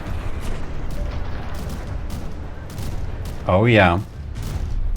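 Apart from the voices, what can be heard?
cram cannon shell barrage exploding in video game From the Depths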